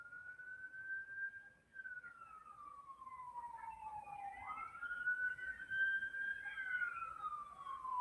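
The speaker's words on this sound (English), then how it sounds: "When is this ambulance going to go away?" An ambulance siren wails outdoors, sweeping slowly up and down in long rising and falling tones, heard clearly and fairly loud from indoors, with no talking.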